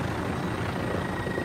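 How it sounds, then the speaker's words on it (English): A loud helicopter in an online shooter video game drones steadily with a thick, constant low rotor rumble, filling the whole moment with no voices over it. "I can't hear you because of the loud ass helicopter."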